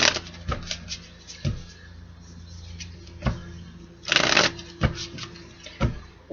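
Cards being shuffled several times, each riffle a crisp burst of rapid fluttering clicks separated by short pauses, close and clear.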